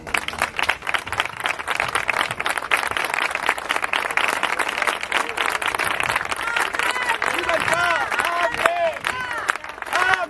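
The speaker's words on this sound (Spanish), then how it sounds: "Con mucho cariño vamos a darle un aplauso desde aquí." Applause breaks out from a crowd at an outdoor protest rally, with dense clapping, scattered shouts and chanting voices rising over it toward the end.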